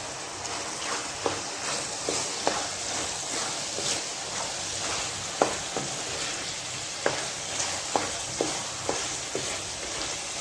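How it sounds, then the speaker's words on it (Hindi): Vegetables cooked with keema and bell pepper are stirred with garam masala powder in a pan, giving a steady soft sizzle with regular scraping strokes of a spoon about every second, close and moderately loud, no talking. "इसमें हमने गरम मसाला पाउडर डाल दिया। इसको भी अच्छी तरह से मिक्स कर लेंगे।"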